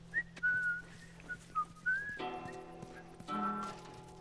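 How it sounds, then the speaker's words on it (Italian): A character whistles in The Last of Us Remastered, a series of short clear whistled notes, close and moderate, followed by tonal game sounds and a low background hum. "Sto fischiando!"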